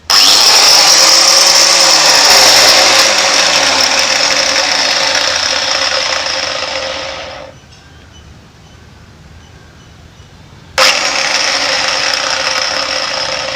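An electric workshop machine motor starts up and runs loud and steady with a high whine, cuts off abruptly for about three seconds, then starts again.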